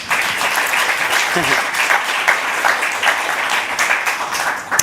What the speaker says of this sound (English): Let's give them a round of applause to encourage them.